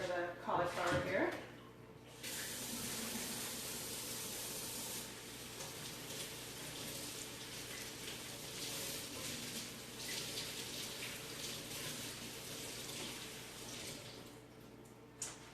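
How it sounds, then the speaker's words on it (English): A running kitchen tap splashes over cauliflower being rinsed, a steady gushing spray after a brief spoken opening, with a voice heard only at the start. "just going to wash off the celery or the cauliflower here"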